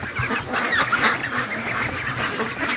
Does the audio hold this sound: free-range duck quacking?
yes